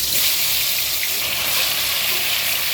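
Chicken pieces cooking in oil in a pot for chicken biryani, a steady loud sizzle with continuous bubbling hiss throughout and no pauses.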